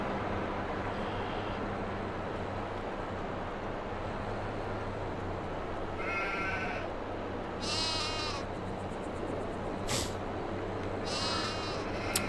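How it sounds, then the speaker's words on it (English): Sheep in Farming Simulator 22 give several scattered bleats, some overlapping, over a steady low farm ambience, with no talking. "We have more sheep now."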